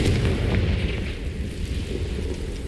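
A Confringo fire spell explodes in the Hogwarts Legacy video game: a loud, deep rumbling blast that hits hard at the start and then rolls on with a heavy low roar for a couple of seconds.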